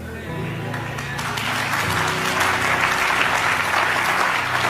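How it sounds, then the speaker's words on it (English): An audience claps steadily at a live radio church broadcast in Ghana, a dense, sustained round of applause that swells slightly and carries on throughout, with a faint organ-like tone underneath. "Increase that clap offering."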